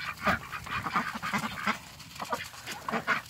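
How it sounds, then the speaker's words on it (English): A flock of Saxony ducks quacking repeatedly in quick, overlapping bursts close by, busy and continuous with no talking. "These are Saxony ducks in the front."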